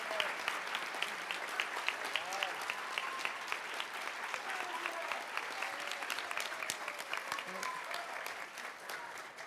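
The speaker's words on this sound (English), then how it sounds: "Give a final round of applause" An audience gives a final round of applause for the FameLab finalists, steady, dense clapping from a crowd that carries on for several seconds at a moderate distance, with faint voices underneath.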